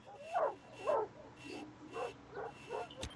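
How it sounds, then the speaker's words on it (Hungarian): Dogs in a horror video game bark and yip in a rhythmic series of about six mid-loud calls, some whining at the edges, over a low game hum, ending with a sharp click. "Ne ugassanak már kutyák."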